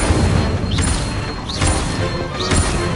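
Spell-combat blasts in Hogwarts Legacy, with the Incendio fire spell among them: three loud whooshing bursts about a second apart over a dense roar of crackling impacts and booms, with no voice.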